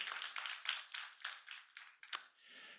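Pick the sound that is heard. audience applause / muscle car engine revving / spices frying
audience applause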